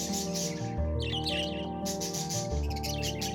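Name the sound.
Congo grey parrot calling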